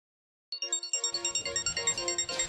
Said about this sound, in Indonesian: Aku angkat telepon dulu.